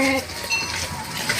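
Goats bleat briefly at the start on a small village goat farm, a short nasal call, followed by quieter farmyard background with faint clinks and a little voice activity.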